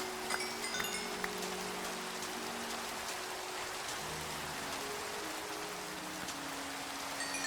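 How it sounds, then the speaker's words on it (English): Rain falls steadily in the Minecraft video game, a constant hiss of drops on surfaces at moderate loudness with a faint droning tone underneath and no talk. "As it continues to rain"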